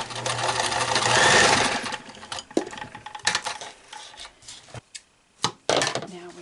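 A sewing machine runs in a steady loud burst while stitching a fabric face mask without elastic, then stops and starts in short clattering bursts with clicks of the mechanism, close up.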